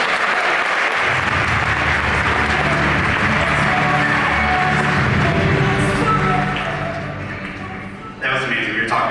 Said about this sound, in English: Let's give James another round of applause.